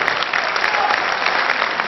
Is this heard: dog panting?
no